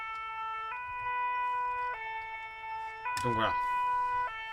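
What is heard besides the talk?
fire engine siren, Farming Simulator 17 mod (video game)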